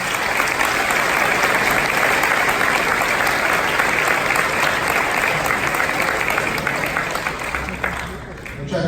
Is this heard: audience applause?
yes